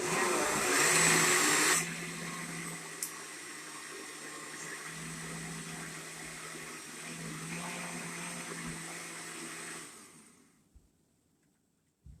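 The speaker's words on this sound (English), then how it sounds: "it will not take very long to blend this all together. So you kind of put it on low to begin" A kitchen blender purees butternut squash and apple soup on a low setting with a steady motor whir, louder for the first couple of seconds, then steady before cutting off near the end.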